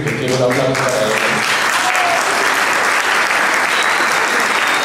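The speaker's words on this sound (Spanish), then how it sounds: "Yo quiero un aplauso para ella." An audience at a public health lecture bursts into dense, loud applause that fills the room, with a brief voice heard at the very start before the clapping takes over.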